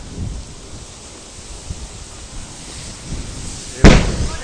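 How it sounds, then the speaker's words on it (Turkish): Low rumbling crackle builds for a few seconds at a fire engine fire in Çanakkale, then a single sharp, loud explosion bangs out at a distance with a trailing rumble. "Bir patlama sesi daha geldi."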